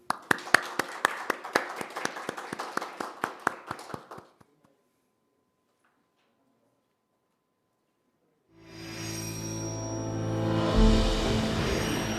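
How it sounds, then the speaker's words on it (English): Audience applause at an international academic conference and peace summit, a quick patter of close claps for about four seconds that ends in silence, followed by a swelling music-like sound. "a big round of applause from everyone"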